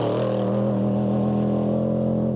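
Engine of an off-road pro race truck at a desert race, a loud, steady, deep roar with sustained low harmonics, close and continuous.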